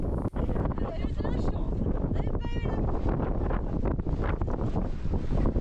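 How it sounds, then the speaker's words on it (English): Strong wind gusting across a high volcanic hiking trail on La Grande Soufrière, Guadeloupe, roaring steadily into the microphone with broadband buffeting throughout, while people talk faintly underneath. "The higher up we got, the harder the wind got."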